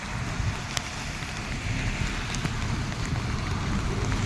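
Heavy rain falling on the Nashik–Mumbai highway, a constant hissing wash with a few sharper drop hits and some wind buffeting the microphone.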